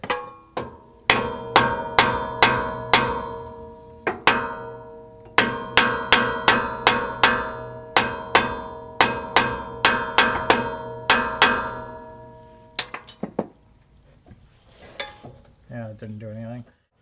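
Metal is tapped repeatedly while a pinion seal is fitted on a 1960 Chevrolet Bel Air, producing sharp ringing clanks in an uneven rhythm that fade into scattered clinks, with brief speech near the end.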